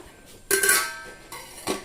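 A lid being set over a pot of soaked rice for Kannur-style kalmas preparation, giving a close metallic clatter of cookware, one sharp clink followed by a second, softer rattle.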